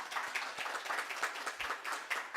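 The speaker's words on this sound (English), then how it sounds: "let's give a big round of applause for him." Modest applause from a small congregation at a family church service, a brief patter of individual claps from a handful of people, soft and somewhat distant, with no talking.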